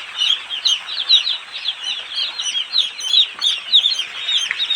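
Day-old broiler chicks on a poultry farm peep nonstop in a dense, high chorus of overlapping chirps, steady and fairly loud with no voices.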